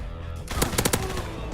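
Orso gun firing in a video game, a short burst of about four loud, sharp shots in quick succession over a steady background of game ambience.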